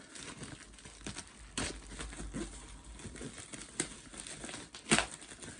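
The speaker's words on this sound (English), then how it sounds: "Let's take off the plastic." Plastic shrink wrap peeled and crumpled off a Nintendo Switch collector's edition game box, a close crackling, crinkling rustle with several sharper tearing bursts, no talking.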